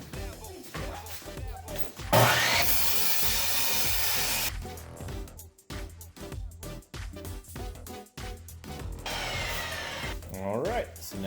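Power saw cutting planed pallet wood at 45 degrees: a loud whining cut of a couple of seconds between clattering handling noises and speech, then a second shorter burst near the end.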